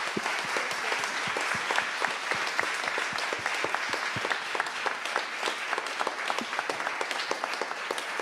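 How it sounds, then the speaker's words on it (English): A conference audience gives the speakers a sustained round of applause, with dense, even clapping that keeps a steady level throughout. "help me to give a big applause to the speakers today"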